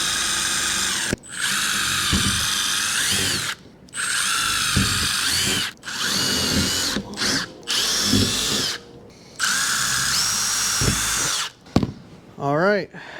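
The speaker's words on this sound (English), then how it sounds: "We'll apply a little bit of pressure here and we'll just drill through this." A power drill bores through a van roof for a fan installation, whining loudly in several bursts of a second or two separated by short pauses, with a ratcheting spin-down at the end.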